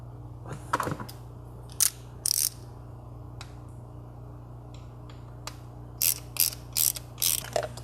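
Ratcheting clicks and brief mechanical bursts from a screw being driven to secure a hose and bracket during a catch can install on a VW Mk7 GTI engine, close but quiet over a steady low hum.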